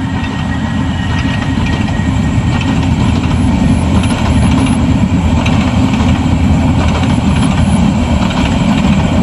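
Train moving slowly, heard from on its roof: a loud, continuous rumble and rattle of the carriages and running gear, steady throughout with no talk.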